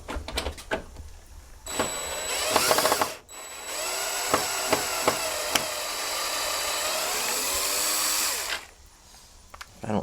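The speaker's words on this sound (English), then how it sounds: "Jonathan's just going to zip those out with the drill really quick." A power drill zips out grille screws on a Jeep Cherokee XJ, with short bursts first, then a long steady whirring run of several seconds before it stops, loud and close.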